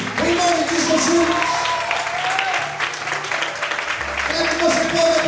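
Steady crowd applause fills a church during an evening service, continuous and dense, with a sung or spoken voice carrying over it and low keyboard or bass tones underneath.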